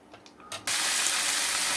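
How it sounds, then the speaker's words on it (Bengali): Potatoes hit hot oil with black cumin in a kadai, setting off a sudden loud, steady sizzle after a few quieter clinks and rustles, close and continuous. "আলুটা ভেজে দিয়ে দেবো"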